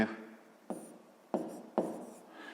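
Pen or pencil writing a fifth-grade math solution by hand on paper, with three or four short, close scratching strokes separated by brief pauses.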